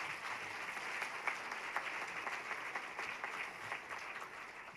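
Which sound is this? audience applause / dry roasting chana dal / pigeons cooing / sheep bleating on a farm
audience applause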